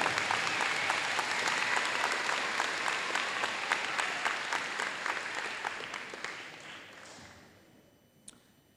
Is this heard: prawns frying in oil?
no